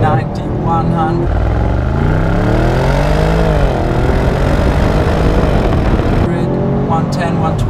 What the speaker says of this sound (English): Second gear now, kick down.